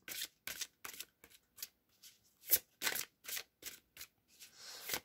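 Oracle cards are shuffled and drawn by hand: a run of close, crisp riffling bursts in an uneven rhythm, separated by brief quiet gaps.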